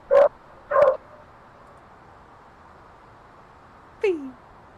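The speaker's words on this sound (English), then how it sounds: "That's my dog, because the babysitter's here." A house dog barks twice in quick succession, then gives a higher, falling yelp a few seconds later, loud and close against a quiet room.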